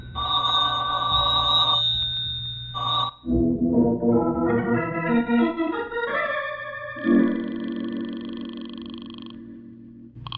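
A telephone in a radio drama rings steadily and insistently, its bell repeating alone without being answered, set against a background of dramatic music.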